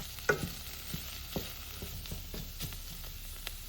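Chopped red cabbage fries in a pot for a red cabbage lentil soup, a soft steady sizzle with occasional light stirring clicks and scrapes, fairly quiet and close.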